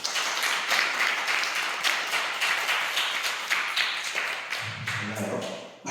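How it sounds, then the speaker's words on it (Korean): A church youth retreat group claps together for several seconds, fairly close applause that thins out near the end as a low murmur rises. "박수 한번 주세요"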